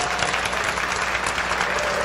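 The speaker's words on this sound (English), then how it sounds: "Let's give a round of applause for our panelists." Audience at a beer summit panel giving the panelists a round of applause, dense continuous clapping that is fairly close and loud, with no one speaking.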